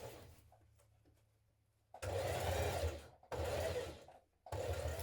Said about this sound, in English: using a zigzag stitch, we're going to stitch those two ends together